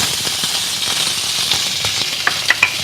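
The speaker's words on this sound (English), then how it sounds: "Now that's definitely got a sizzle." Zucchini sizzles steadily in a hot pan without added oil, a constant bright crackle with a few sharper pops near the end, fairly loud and close.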